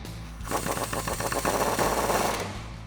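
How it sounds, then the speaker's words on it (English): An impact wrench with a 17mm socket and a small extension hammers a bolt tight on a Jeep Wrangler TJ during a lift kit install, a loud rapid rattling burst lasting a few seconds. "I'm just using a 17mm Jeep socket, my impact and a small extension."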